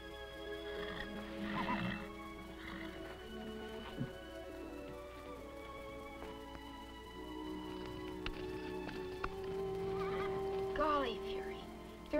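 A horse whinnies several times against a murmuring background with faint patter, the calls rising and falling at moderate distance, with some muffled voices mixed in.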